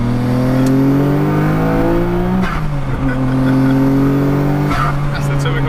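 A mint-condition Nissan Skyline GT-R R34 V-Spec II engine revs loudly and steadily up close, with rising harmonics broken by two quick dips as it builds toward a semi-launch; voices talk over the engine throughout.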